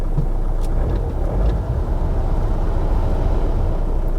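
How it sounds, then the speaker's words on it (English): A used Kia Sportage diesel engine idling after starting with the glow plug, a steady low rumble that is smooth rather than clattery, heard close and continuous without talk. "Sounds quite sweet really for a diesel."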